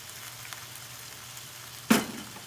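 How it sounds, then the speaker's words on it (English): Pepper steak with oyster sauce stir-fries in a hot pan, a soft continuous sizzle with faint ticks, then one sharp loud burst of sizzling near the end as the food is tossed. "And just stir fry again."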